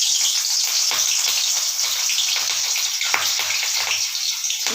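Two green chillies frying in a little very hot oil give a loud, continuous close-up sizzle with scattered crackling pops throughout.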